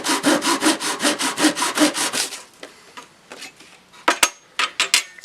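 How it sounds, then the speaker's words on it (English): A flexible dovetail saw cuts through wood for a window flower box in steady, rhythmic back-and-forth strokes, close and fairly loud, then a few sparse scrapes and taps follow. "And then with a flexible dovetail saw,"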